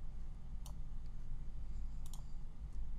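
Faint computer mouse left-clicks during embroidery digitizing software work, a few sparse sharp ticks over a low steady room hum.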